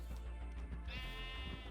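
A sheep bleats in the modded Minecraft pack GregTech: New Horizons, one wavering game-sound bleat near the end over a steady busy background, preceded by faint soft thumps, no speech.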